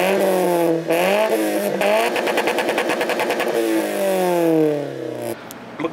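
A Mazda Axela engine with a Magnaflow exhaust revs up and down with a deep, throaty exhaust note, rising to a rapid pulsing near the limiter before settling back, close by.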